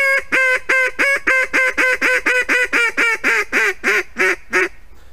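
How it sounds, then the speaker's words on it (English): A mallard duck call, a hand-blown wildfowling call, sounds a steady series of about fifteen loud, close quacks that slow and drop in pitch toward the end, with no talk over them. "we just want to get a typical mallard sound"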